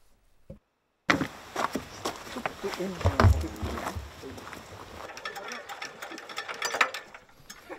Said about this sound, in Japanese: 取り囲んでいるのは掘削に使う機械だ